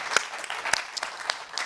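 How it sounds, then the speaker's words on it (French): Audience at an e-health conference evening clapping for the guests, scattered claps from a modest crowd with a few sharper slaps, sparse and fairly close. "je vous propose qu'on applaudisse tous nos invités"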